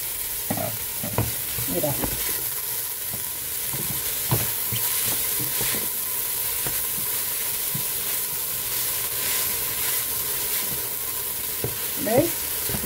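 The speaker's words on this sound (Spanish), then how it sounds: "La añado aquí para que se vaya rehogando junto con los otros ingredientes, con las verduras." Textured soy frying with vegetables in a pan, a steady close sizzle with occasional stirring scrapes and a brief spoken word.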